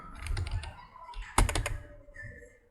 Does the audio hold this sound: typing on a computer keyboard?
yes